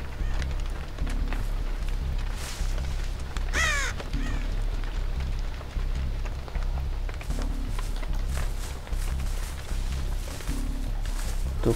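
A crow caws once in the Dead by Daylight game, a short rising call midway through a steady background of game ambience and footstep-like noise.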